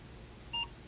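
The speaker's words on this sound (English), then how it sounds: "the computer will beep at you to tell you that the recording has begun" A short single electronic beep from a computer marks the start of a program being saved to cassette tape, sounding briefly and clearly against a faint hiss.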